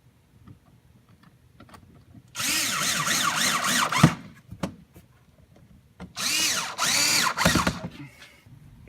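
A power drill tightens two bolts in two separate bursts, each a loud, close whir that rises in pitch and lasts a couple of seconds, with quiet handling clicks before and between them.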